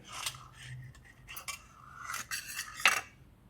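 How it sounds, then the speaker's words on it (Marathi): An oiled knife slices through set jowar (sorghum) mutke made with fenugreek leaves, making a quick series of close taps, clicks and scrapes against the tray across a few seconds with no voices. "आपण थोडं सुरीला तेल लावून आता कट करून घेऊया"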